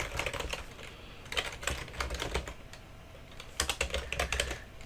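Rapid, uneven keystrokes on a computer keyboard while logging in, coming in close bursts of clicks with brief pauses between them, with no talking.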